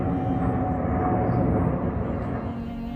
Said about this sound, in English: That sound is a plane flying overhead.